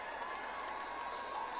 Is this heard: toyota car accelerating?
no